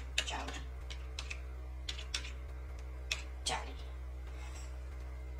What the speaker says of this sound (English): I'm taking the text tool and writing the name Johnny.